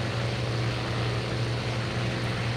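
A Spitfire's propeller engine in flight in the IL-2 Cliffs of Dover flight simulator game produces a loud, even droning hum with a steady low tone that runs unbroken.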